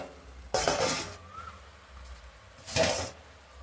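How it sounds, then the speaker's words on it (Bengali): Lid lifted off a pot of gulab jamun simmering in sugar syrup, two short metallic clanks and scrapes a couple of seconds apart, close and distinct over a quiet kitchen background. "5 মিনিট হয়ে গেছে, ঢাকা খুলে নেব।"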